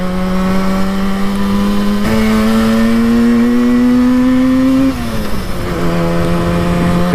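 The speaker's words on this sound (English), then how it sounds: "So two tiny little 50cc cylinders just going as fast as their little heart can." A 1968 Yamaha YL1 Twinjet, a 50cc twin-cylinder motorcycle, buzzes loudly at high revs while riding, pitch climbing steadily through two gears before dropping at a shift, then climbing again, close and continuous with no talk.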